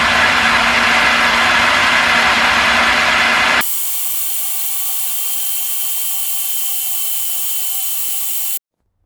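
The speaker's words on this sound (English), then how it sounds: "we have put all our ingredients in our food processor, and then we are going to blend it" A food processor blends black beans, rice and other loaf ingredients with a loud, close, rough motor roar. It then shifts abruptly to a thinner steady whine before cutting off.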